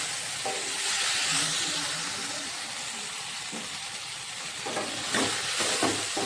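Potatoes and cauliflower fry in spices in a pan, giving a steady loud sizzle and hiss throughout with occasional stirring scrapes, no talking.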